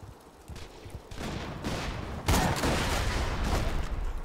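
Borderlands 2 combat with grenade blasts and gunfire, a steady dense barrage of shots that swells into a louder burst midway and keeps rattling without letup.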